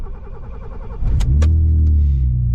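A cold BMW E30 engine cranks briefly with a starter whir, then catches and settles into a loud, slightly uneven idle that stumbles as if trying to die, heard up close with no talking.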